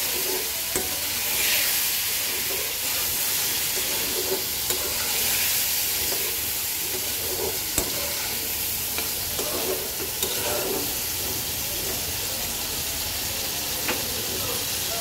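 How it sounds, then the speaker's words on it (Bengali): Tengra fish and spices stirred and frying in a pan, a steady close sizzle and hiss with scraping spoon strokes recurring throughout. "এবার একটু নেড়ে দেবো মশলাগুলোর সাথে"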